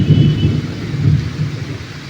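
A heavy thunderstorm with rain falling outside a window: deep, rolling thunder rumbles loud and close, swelling and fading over a steady wash of rain, with no voices.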